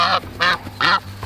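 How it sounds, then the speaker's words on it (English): Geese on a homestead give three loud, close honks in quick succession, each a short nasal blast with a brief pause between. "Come on, geese."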